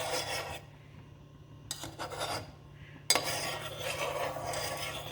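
Protein powder is stirred into media in a container, heard as close, gritty scraping and rubbing strokes broken by short pauses and ending in a sharp knock before the stirring resumes.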